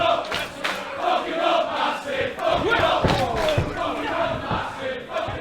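A large indoor wrestling crowd roars and chants continuously, voices overlapping in a loud, sustained wall of cheering.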